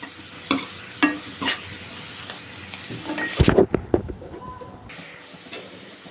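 A spoon scrapes through bitter gourd curry with garlic in a pan in a few separate strokes, then a louder burst of frying sizzle and clattering stirring that quickly fades back to quiet scraping.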